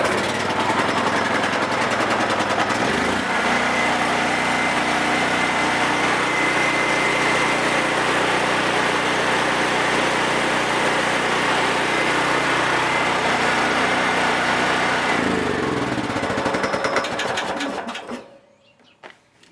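A Harbor Freight Predator 7000 watt generator runs nearby with a steady, loud, buzzing engine drone that shifts slightly in pitch and then cuts off near the end.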